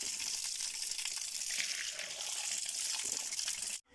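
Water pours steadily from a water tank in a loud, continuous gushing splash close by, running unbroken before cutting off abruptly at the very end.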